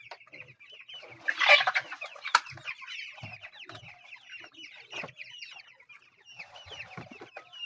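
Flock of 45-day-old broiler chickens clucking and chirping continuously nearby, with one louder squawk and scattered soft thumps and rustles around them.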